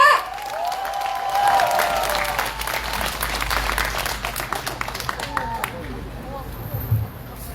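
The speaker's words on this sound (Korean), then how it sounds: "열렬한 박수 부탁드립니다." Crowd applause with cheering at an outdoor strike rally of call center workers, a steady wash of clapping with scattered shouts that thins into separate claps toward the end over a low background rumble.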